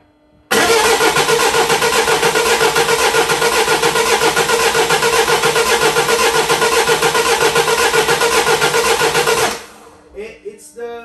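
Mini Clubman diesel, parked for two years, cranking without firing: a loud, continuous rapid starter churn lasting about nine seconds, then cutting off abruptly with no engine catching, followed by faint clatter and movement.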